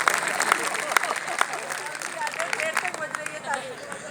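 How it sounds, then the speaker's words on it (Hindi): A crowd at a Kshatriya Mahasabha annual celebration gathering in Jaspur claps together, a dense, steady patter of many hands mixed with murmuring voices throughout. "तो इनके लिए एक ताली तो बजा दो"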